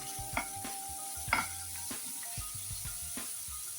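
Chopped carrots stir-fried in a pan give a steady low sizzle with scraping stirs at a fairly even pace, close and moderately loud, with no talking.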